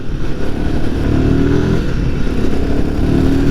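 Royal Enfield Himalayan 450 motorcycle engine revving steadily and loudly up close, a continuous throaty drone with rising pitch in places.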